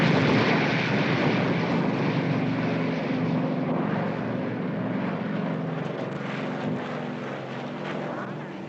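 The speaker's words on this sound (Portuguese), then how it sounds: "Os aviões de novo." Airplanes flying overhead in wartime Vietnam, a continuous broad engine roar that fills the whole stretch, steady and fairly loud with a slow swell and fade and no voices.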